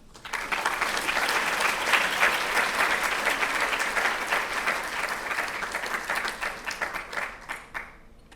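An audience in Doha breaks into sustained applause for Nobel laureate Abdulrazak Gurnah, a dense, close wash of clapping that holds steady and then thins out and fades over about eight seconds.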